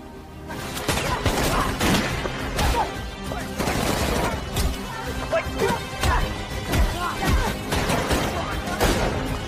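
Rapid, dense bursts of gunfire crack continuously, loud and chaotic, mixed with crashes and impacts like an intense action-movie shootout.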